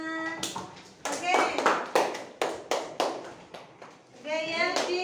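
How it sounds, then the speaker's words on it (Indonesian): Children in a classroom clap in a string of sharp, separate claps that start uneven and then fall into a rhythm, with a voice and chatter at the start and end. "Beri tepuk tangan, teman-teman."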